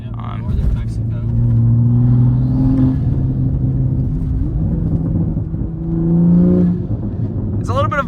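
A Toyota Supra on lowering springs drives on a road in Northern Mexico, its engine and exhaust droning steadily and rising in pitch as it accelerates, with a voice talking over it inside the car.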